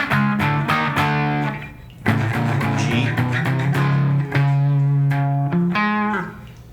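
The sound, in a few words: electric guitar playing chord shapes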